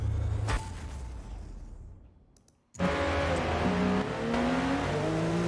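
Porsche race car engine in the Forza Motorsport video game, vintage Le Mans series, loud steady engine drone, a short near-silent gap, then renewed revving that climbs through the gears.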